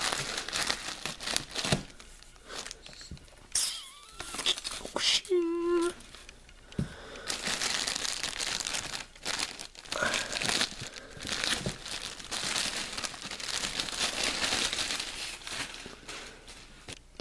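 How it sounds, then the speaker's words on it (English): Plastic packaging around a Rebor Ceratosaurus figure is cut and unwrapped, with close crinkling, crumpling and occasional tearing in irregular bursts throughout, plus brief squeaky scrapes partway through. "let's cut this open. Cut it out of the plastic."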